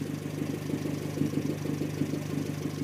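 A 2013 Fiat 500 Abarth with a loud aftermarket-style exhaust idles steadily up close, a low, even burble with a slight pulsing throb and no rev changes.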